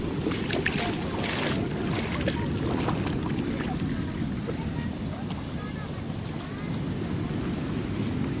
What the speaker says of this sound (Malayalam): വമ്പൻ തിരമാല ഉണ്ടേ.